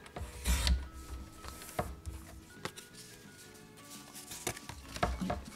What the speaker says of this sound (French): Cette fois-ci, on va prendre la lame de coupe.